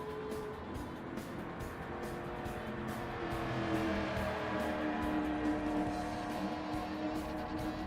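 A race car in a racing video game cruises around a super speedway, its engine holding a steady, loud drone that swells slightly midway, with a faint regular ticking above it.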